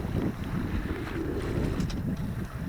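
A sailboat under full mainsail moves through a light swell, with wind buffeting the microphone and water washing against the hull in a continuous, rolling rush.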